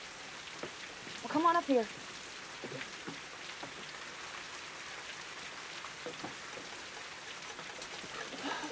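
Rain falls steadily on a roof in a Western film scene, a constant patter under a man's brief speech and scattered knocks.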